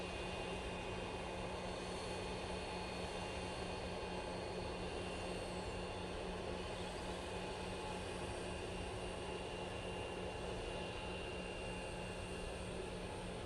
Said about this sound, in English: That TUI that I just mentioned before, now that is on final, coming in from Cancun using the 787-8 Dreamliner